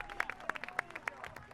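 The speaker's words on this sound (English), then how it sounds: "Golf clap." A soft, polite golf clap, a handful of sparse, light hand claps spaced out irregularly, fairly faint, with a quiet voice faintly present beneath them.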